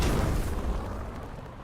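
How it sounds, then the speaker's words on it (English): A flashbang grenade goes off in a video game, a single muffled, rumbling burst that swells at once and slowly fades over about a second and a half, with no voices. "Flashbang out."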